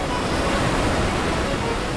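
Sea waves breaking at an Irish surf spot on a day of poor, junky surf, a dense continuous wash of surf noise close to the microphone with no voices.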